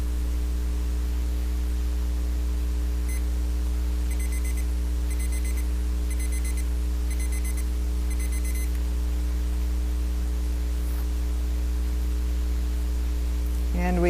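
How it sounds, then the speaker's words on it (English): A digital timer alarm sounds during an aquarium water test, with about five rapid bursts of high electronic beeps over a loud steady electrical hum that continues alone afterward. "Now the timer is about to go off."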